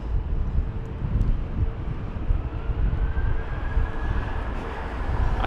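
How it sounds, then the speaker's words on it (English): A British Airways Airbus A320-200 sits on the runway at London Heathrow during Storm Kathleen, its steady jet engine roar blending with heavy wind buffeting the microphone, continuous and fairly loud with no voices. "There's a BA320 200 on the runway now, off to Sofia."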